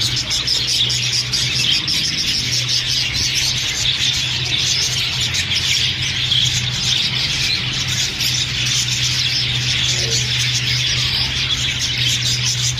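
Chicks chirp in a steady, busy chorus of shrill peeps that goes on without a break, nearby and moderately loud, over a faint low hum.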